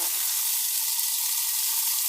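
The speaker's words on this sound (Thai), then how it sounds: "เป็นย่าง เป็นกระทะย่างนะคะอันนี้" Steady, dense sizzling of chicken steak searing in a hot grill pan, a continuous crackling hiss with no voices.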